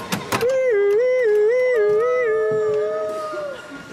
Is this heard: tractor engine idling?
no